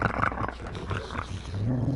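A big dog growls in the video game Assassin's Creed Valhalla, a low, rumbling snarl that swells and rolls across the moment, loud and close, with no speech over it.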